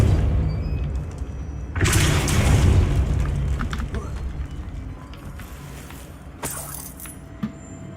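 A Depulso spell cast in the Hogwarts Legacy video game bursts out as a loud whooshing blast over low rumbling ambience, followed by scattered clatter and a second sharp burst later on.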